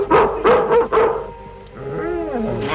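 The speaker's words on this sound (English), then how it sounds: "The confounded Miller dog" A dog barks four times close and loud in a quick, sharp run, then breaks into a higher whining whimper that trails off.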